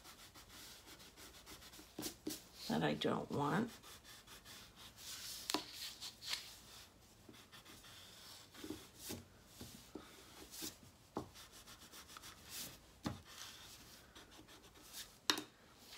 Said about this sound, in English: I'm erasing any pencil marks